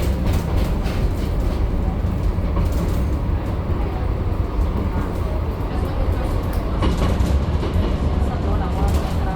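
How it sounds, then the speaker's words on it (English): Steady low rumble of a tram in motion in Milan, with rail clatter and faint background voices throughout. "Taking the tram in Milano."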